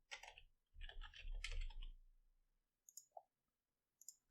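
Computer keyboard typing while entering an HTML link tag for a stylesheet, heard as a busy cluster of close clicking keystrokes for about two seconds, followed by a few sparse, softer isolated clicks.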